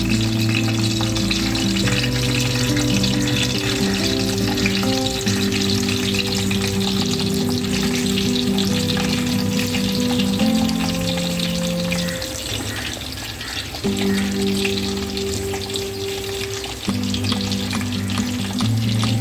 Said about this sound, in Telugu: అందులో మనం ఇందాక కలిపిన మిశ్రమంతో ఉన్న చేపల ముక్కల్ని నీట్గా ఆ వేడి నూనెలో వేసుకోవడానికి వేసుకోవాలి